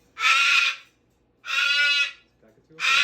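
A cockatoo gives three loud, harsh squawks, each lasting about half a second, close by and separated by short pauses of near silence.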